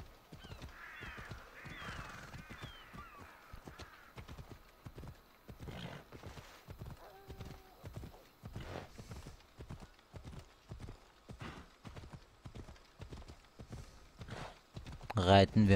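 A horse gallops in Assassin's Creed Odyssey, its hooves pounding out a steady, close rhythm with a whinny, distant crow caws and a loud closing burst, while a voice talks intermittently over it.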